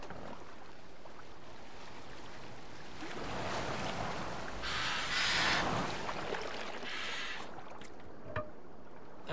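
Boat gliding over water in the video game Assassin's Creed Valhalla, a steady wash of water and wind with swelling splashes midway, continuous and fairly soft.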